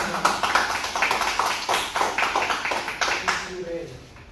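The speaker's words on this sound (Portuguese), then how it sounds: "uma salva de palmas, Brenda Carelli." Applause for a speaker at a motivational seminar: a modest crowd clapping in quick, fairly regular beats for a few seconds, fading toward the end, with a voice mixed in underneath.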